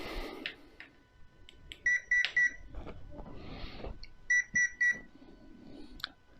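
Two sets of three short, high electronic beeps from a Hobbywing 1080 ESC in an Absima CR3.4 Sherpa RC crawler, evenly spaced and clear against quiet background handling noise.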